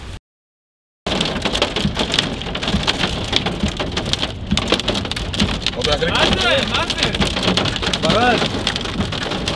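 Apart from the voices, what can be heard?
hail falling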